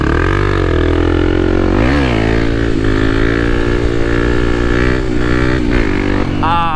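A Kawasaki KLX300 motorcycle on winding mountain roads, its engine loud and close. The pitch rises as it accelerates, dips briefly at a gear shift, then climbs again under steady wind noise.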